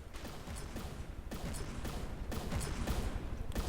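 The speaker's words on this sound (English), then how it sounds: "the vast majority of these shells are being deflected" Shells pound ships in a video game naval battle, a constant rumbling barrage broken by sharper cracking impacts at about 1.3, 2.3 and 3.6 seconds, growing slightly louder toward the end with no talking.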